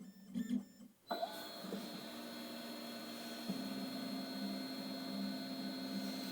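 Keyline Ninja key-cutting machine motor running while cutting a key, a quiet steady whirring hum with a faint tonal whine after a brief mechanical start-up clunk, continuous and close.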